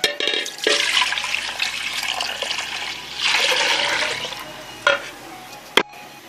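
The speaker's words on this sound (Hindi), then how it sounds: "उसी बर्तन में मैंने और पानी ऐड किया तकरीबन 1 गिलास के करीब" Water pours into a metal pot while almond sharbat is being made, a rushing splash in two bursts with a brief pause between, ending in a couple of sharp knocks.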